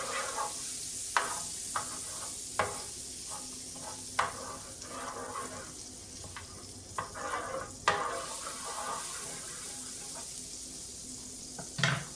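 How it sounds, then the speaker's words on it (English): Butter melting in a pan on the stove gives a steady soft sizzle, with intermittent clinks and scrapes of a utensil against the pan, close and continuous. "I'm gonna take this butter and I'm gonna melt it"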